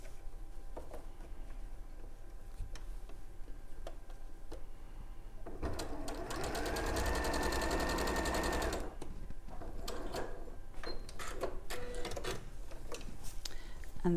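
A sewing machine stitches along fabric quilt panels in a loud, steady run of several seconds, with quieter intermittent stitching bursts before and after against a faint room background.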